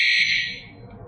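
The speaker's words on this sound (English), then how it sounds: "The 5th is a cricket." A remote dog hunter beeper trainer collar emits a short, shrill electronic chirp, close and clear, which fades away within about half a second into faint low background noise.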